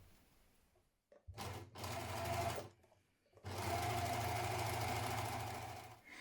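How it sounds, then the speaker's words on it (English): An overlocker runs along the raw edge of fabric for a cowl neck blouse: a short whirring burst, a pause, then a longer steady, close hum with a fast mechanical chatter. "So I'm going to just overlock mine before I fold it back."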